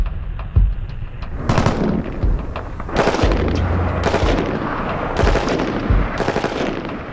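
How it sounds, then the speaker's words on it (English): An M14 rifle fires in full automatic at a helmet target, sending out several sharp bursts of loud rapid shots separated by short pauses. "Can the M14 pass the helmet test, penetrating a helmet in full automatic?"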